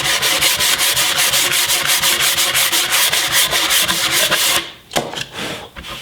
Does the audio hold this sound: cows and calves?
no